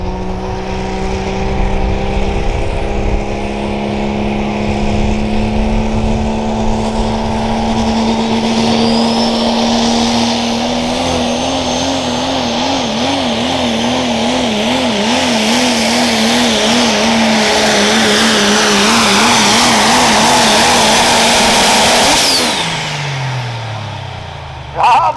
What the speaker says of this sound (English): Now coming out onto the track is a brand new truck for 2026.